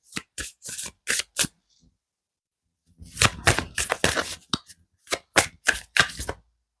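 Tarot or oracle cards riffle and slap in quick bursts, a handful of crisp snaps, then a pause before a denser run of shuffling, close and clear with no talking.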